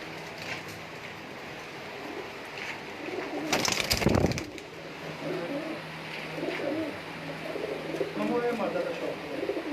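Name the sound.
teddy pigeons cooing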